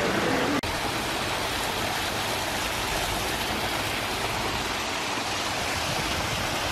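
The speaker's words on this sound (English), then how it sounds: "There's a little waterfall on the other side of the statue." Steady rushing water of a small waterfall beside a statue fills the scene, a broad constant roar, with a brief knock at the start.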